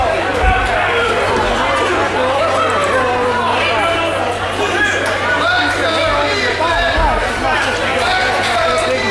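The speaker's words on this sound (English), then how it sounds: "The crowd is rallying behind Ethan Wright to try to give him some inspiration" A wrestling crowd at an ASWA match between Dalton Kingsley and Ethan Wright keeps up a steady, loud roar of chatter and shouting throughout, with no break in the noise.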